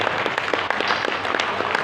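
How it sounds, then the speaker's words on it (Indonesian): An audience at a foundation's appreciation and iftar gathering breaks into applause, a dense burst of clapping that holds steady and fairly loud. "Tepuk tangan untuk kita semuanya."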